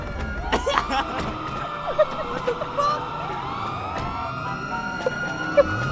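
Police car sirens wail and sweep in a GTA roleplay game street scene, several overlapping siren tones rising and falling at moderate loudness, with occasional thumps and traffic noise beneath.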